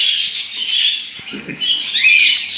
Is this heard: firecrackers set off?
no